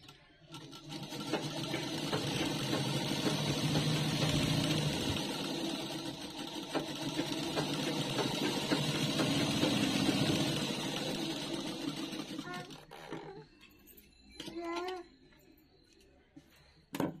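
A sewing machine stitches fabric for a princess-cut pattern, its rapid, even motor whir running continuously for about twelve seconds before stopping, followed by a few quieter handling noises.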